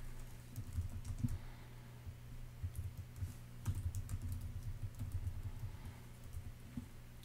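Computer keyboard keys clatter in quick, uneven bursts as code is typed, soft and close against a low background hum, with no talking.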